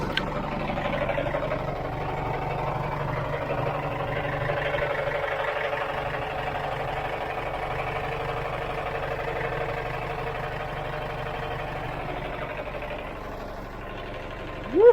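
A John Deere JD410 backhoe's diesel engine idles steadily after a pressure control valve repair, a continuous low mechanical rumble held at an even level throughout, close and alone, with a brief sharper sound right at the end.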